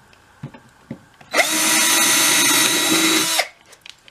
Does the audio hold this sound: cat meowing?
no